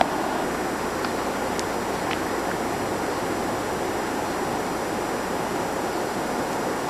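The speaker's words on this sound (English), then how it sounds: "This is the river that I'm fishing in." A New Hampshire or Maine river used for fishing rushes steadily past a rock at close range, giving a continuous broad wash of flowing water with no pauses and no voices.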